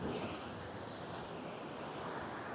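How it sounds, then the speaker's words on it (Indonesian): Large ocean waves surge near a sea cave, a steady broad roar of surf mixed with wind rush, continuous and fairly distant. "Ombaknya besar banget ini nih."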